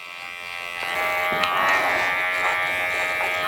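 Electric hair clippers buzz steadily at close range while cutting into the hairline during a business casual men's haircut, the hum swelling slightly as the blade meets the hair, with no talking.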